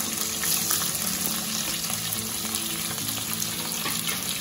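Onions frying with cumin and dry spices give a steady, dense sizzle and crackle that runs unbroken and close, with no talk over it.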